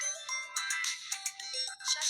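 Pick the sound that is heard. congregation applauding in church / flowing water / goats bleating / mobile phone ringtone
mobile phone ringtone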